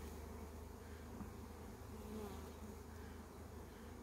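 Steady, dense buzzing of many honey bees in a hive, a continuous droning hum close by with no voices.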